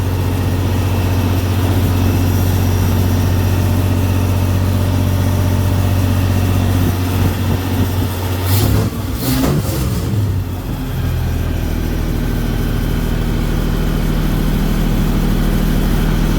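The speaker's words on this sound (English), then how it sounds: "It fired up first crank." A 1967 Ford F100 V8 with a new Offenhauser intake and headers, loud and close: a steady low rumble, a brief throttle blip midway, then a settled idle.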